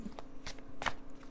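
A tarot card is drawn from the deck during a reading, giving a few soft papery slides and flicks, close and quiet, with no talking.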